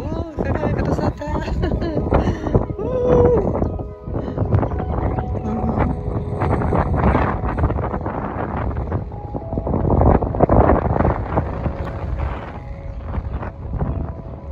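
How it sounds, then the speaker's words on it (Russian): Gusty wind roars and buffets the microphone steadily on a cable car climbing the Markotkh Ridge in the Caucasus Mountains, with voices talking faintly underneath. "Ветер холодный."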